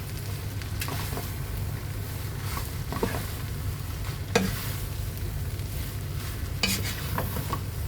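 A spoon stirring chopped spring onions into red-sauce spaghetti with parmesan in a hot pan, scraping and clinking over a low steady sizzle, close up and without speech.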